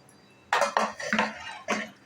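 A cooking pan holding a semolina-coconut modak filling comes off a gas stove, making a few close metallic clanks and scrapes in a brief cluster.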